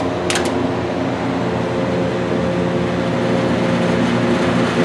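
An electric fan runs at a constant loud hum with a steady whirring drone, its wire cage rattling faintly throughout, close and alone with no voices.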